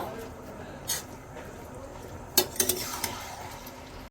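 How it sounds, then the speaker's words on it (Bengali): A utensil stirs white sesame seeds into dry chilli chicken in a pan, Kolkata style, with a few sharp metallic clinks and scrapes against the pan over a faint, low background. "এই যে এবার সিসেমটা সাদা তিলগুলো মিশিয়ে নেব।"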